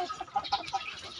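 Three-breed crossbred chickens on a farm clucking softly in short, scattered calls, faint and close, with no talking.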